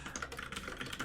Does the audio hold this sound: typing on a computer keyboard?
yes